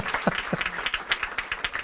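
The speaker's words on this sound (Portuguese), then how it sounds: "Palmas pro bispo, ele é demais." Audience at a business pricing lecture applauding, a short burst of dense, sharp clapping, close and fairly loud, with no talk over it.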